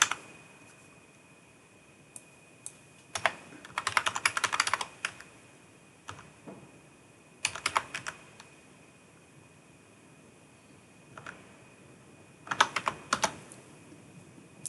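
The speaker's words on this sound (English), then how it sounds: "If I just type HTTP and type the IP," An IP address is typed on a computer keyboard while setting up a Windows Server 2022 IIS load-balanced site, heard as several short, close bursts of quick key clicks separated by quiet pauses.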